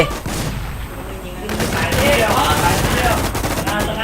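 Rapid automatic gunfire from the shooter game WarZ II rattles in dense bursts, loud and close, with faint player voices beneath.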